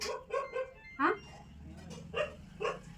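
A dog gives several short, sharp barks in quick bursts, fairly close, with a few yelping notes in between and a person speaking briefly.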